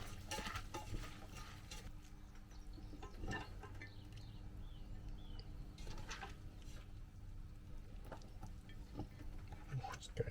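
Wild-food sauerkraut being mixed by hand in a container for fermenting, soft wet squelching and rustling with a few sharper knocks, steady and fairly faint throughout.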